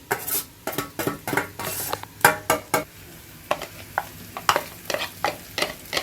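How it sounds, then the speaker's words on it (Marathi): A utensil scrapes and clinks rhythmically against a pan while garlic and ginger fry for schezwan chutney, repeated sharp metallic strokes over a soft, steady sizzle. "लसूण फ्राय करून घेऊ आणि अद्रक लसूण दोन्ही टाकावं लागणार"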